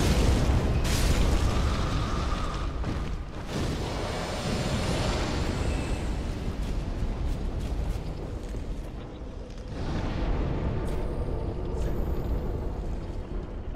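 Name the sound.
fire attack used on enemy in Dark Souls 3 video game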